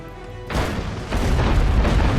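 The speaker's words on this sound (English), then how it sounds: "One more barrage should do the trick." Ship cannon fire in the video game Abandon Ship erupts after a brief lull into a dense, loud barrage of booming explosions that roll together continuously to the end.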